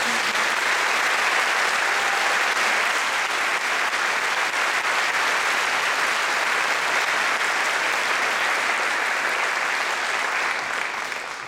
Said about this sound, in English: So if you would please give them an applause, their director's applause